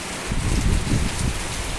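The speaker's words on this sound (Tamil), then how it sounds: "வேறு சரியான மழை." Heavy rain pours down steadily with gusting wind, a dense, close, loud hiss of drops with rumbling low swells and no voices.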